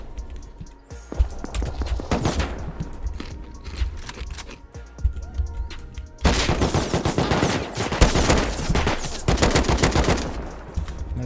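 Rapid bursts of gunfire in the survival video game Rust crack out in dense, irregular volleys, loud and close, with a brief lull midway before an even heavier stretch of continuous shooting.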